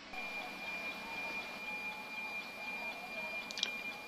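A NOAA 19 weather satellite downlink received on a Funcube Dongle Pro+: a faint, steady hiss carries a constant thin whistling tone throughout, broken only by a small click near the end.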